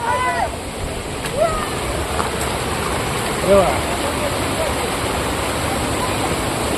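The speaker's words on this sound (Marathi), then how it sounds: "बघू एकदा मित्रांनो ओढ्यामध्ये आलेलो आहे आपण" Water of a small village stream flowing in the first rains, with a steady rushing wash close by and brief splashes, while people talk over it.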